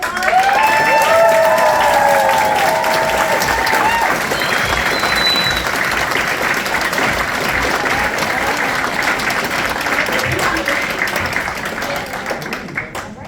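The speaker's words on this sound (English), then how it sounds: "Let's give a big round of applause." Audience applause at a naturalization ceremony for 58 candidates in a library, loud dense clapping with a few cheers early on, holding steady and then tapering slightly near the end.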